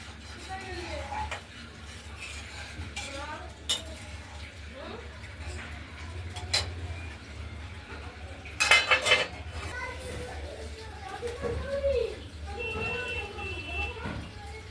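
Metal utensils scrape and clink against a pot of live koi fish curry with potato, tomato and water, in scattered strokes, with a few sharper knocks and soft background noise.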